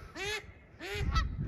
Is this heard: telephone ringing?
no